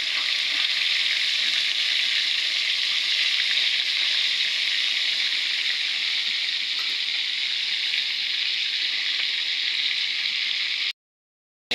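Food fries in a pan with a steady, dense crackling sizzle, close and continuous, before stopping abruptly just before the end.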